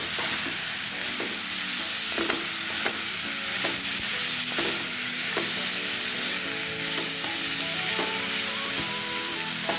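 Raw banana sabji fries in hot oil with turmeric, giving a steady dense sizzle throughout while a spoon scrapes and stirs in repeated clanks and knocks against the pan, with no one talking.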